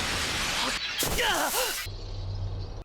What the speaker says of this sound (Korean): 하지만 타나토스의 힘은 골드 크로스를 박살내고